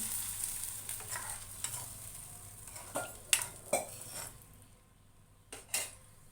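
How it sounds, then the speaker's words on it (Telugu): Chili powder, turmeric and garam masala mixed with water simmer in a pan, giving a soft, steady sizzling hiss broken by a few sharper spoon clinks and scrapes against the metal. "కాసేపు మరగాలండి. చూద్దాము ఎంతవరకు వచ్చిందో. మరుగుతుందండి."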